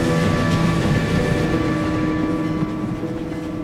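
A train pulling away, a steady loud rumble of wheels and carriage noise with faint tonal hums, continuous and close throughout.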